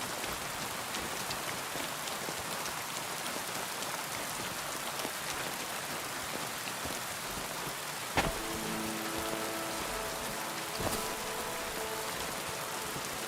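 Steady rain in the video game Kingdom Come: Deliverance, a constant soft hiss of drops falling on surfaces, fairly faint, with a couple of brief knocks and a short tonal sound partway through.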